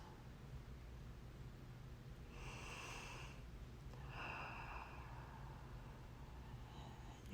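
A client draws two slow deep breaths during a face reflexology session, soft airy inhale-exhale sounds close by in a quiet room.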